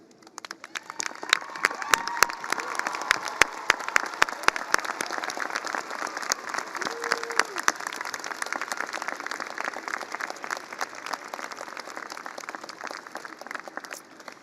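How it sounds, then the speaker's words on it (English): A university commencement crowd applauding families and supporters, many hands clapping in a broad continuous roar with crisp individual claps, a few faint whoops rising early on, sustained and full until the end. "join us in applauding the families and other supporters of our students who are here today"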